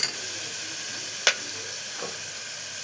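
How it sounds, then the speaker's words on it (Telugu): Food frying in a pan while being stirred, a soft continuous hiss with a scrape or clink of the utensil near the middle and a fainter one shortly after. "ఇలా ఒకసారి కలిపేసుకొని పచ్చివాసన పోయేంత వరకు ఇలా వేపుకుందాము"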